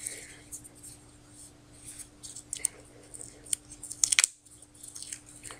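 Scissors cut a foam sheet with a few sharp snips, clustered loudest near the end, over a low steady hum and quiet talk.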